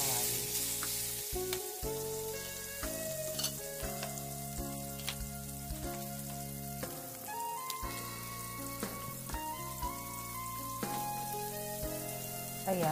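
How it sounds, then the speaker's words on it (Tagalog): Butter sizzles steadily in a hot frying pan as bread is cooked, with a constant fine crackle and scattered louder pops and clinks of utensils. The sound is close, with no talking. "Pagkatapos ay lagyan natin ng butter ang ating kawali."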